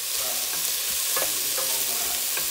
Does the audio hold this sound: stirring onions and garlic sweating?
yes